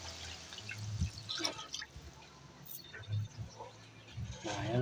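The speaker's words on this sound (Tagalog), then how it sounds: "Idol, lagay na tayo ng tubig." Water is added to a pot of mung beans and pork, heard as soft, close splashes and drips with a few brief clinks, fairly quiet throughout.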